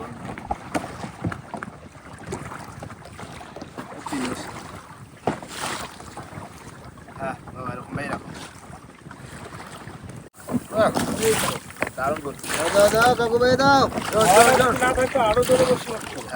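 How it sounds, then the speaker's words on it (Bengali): Strong wind buffets a boat out on the water at night during a shrimp-baited hook fishing trip. Gusty rumbling and water noise rise louder toward the end while people talk throughout. "প্রচুর হাওয়া প্রচুর হাওয়া"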